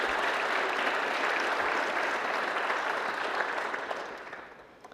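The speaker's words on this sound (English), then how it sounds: "So let's give some applause to Linda." Audience applause at a science initiative celebration fills the room as a dense, steady wash of clapping that holds strong before tapering off toward the end.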